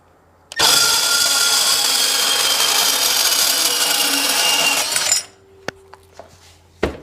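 An angle grinder cuts through stainless steel during a Sea-Doo 4-TEC engine project, a loud continuous shrieking cut lasting about four and a half seconds before it winds down, followed by a few light metallic clinks.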